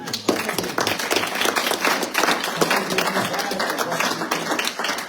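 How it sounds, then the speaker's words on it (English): An audience at a post-legislative update event applauds with dense, steady clapping that runs the full five seconds at a fairly loud level, with scattered sharper claps standing out. "I want to give you a big round of applause"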